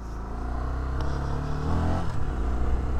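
A 2021 Honda Twister motorcycle engine runs close by, a steady, full low rumble that swells slightly partway through as the throttle lifts, with no talk over it.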